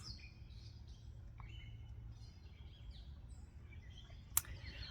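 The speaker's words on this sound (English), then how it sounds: "enjoy the bird songs" Birds sing and chirp outdoors in scattered, fairly faint calls over a steady low background hum, with one sharp brief click near the end.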